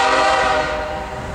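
A CSX manifest freight train passes Monroe Junction at Hamlet, its loud, sustained chord horn blaring close by over the rumble of the cars, then fading slightly toward the end.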